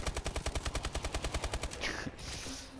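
A rapid burst of automatic gunfire in the video game Exo Zombies, with evenly spaced loud shots for about two seconds, followed by a brief mechanical sound and a low hum.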